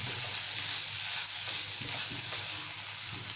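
Red cowpeas (chavali) stir-fried in a pan, a continuous close hiss of sizzling with scraping stirring strokes underneath, no voices.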